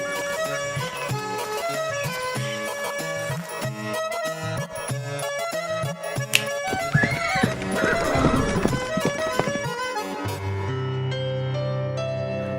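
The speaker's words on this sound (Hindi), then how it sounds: "1 घंटे से हमारे ही घोड़े हम लोगों को ही लात मार मार कर जान लेने पर उतारू हैं" Horses neigh and whinny with clip-clopping hooves in an animated Hindi story scene, set over dramatic background music that swells and then settles into a sustained tone near the end.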